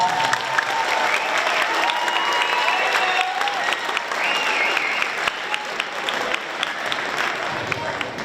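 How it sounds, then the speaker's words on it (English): An audience applauds a fifth grade beginner band at a school band concert, a steady wash of clapping from a crowd of many hands with some cheering, while a voice speaks over it. "Let's give them a quick round of applause."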